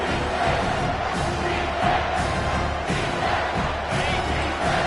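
A stadium crowd in a college football video game, Miami versus USC, roars in a steady sustained cheer as the defense is backed up at the goal line, loud and continuous with swelling surges.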